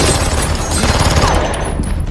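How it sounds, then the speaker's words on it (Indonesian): Gunfire in a mafia action film scene, a loud, dense burst of rapid shots fired wildly from a cornered gunman, continuous and close over the whole moment. "berusaha membalas serangan Victor dengan melepaskan tembakan asal-asalan"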